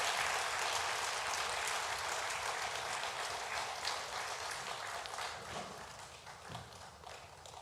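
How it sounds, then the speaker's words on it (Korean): A church congregation at a Sunday morning worship service claps as people return to their seats, steady applause that slowly fades toward the end, fairly distant and soft. "우리 박수로 자리로 돌아가 주시기 바랍니다"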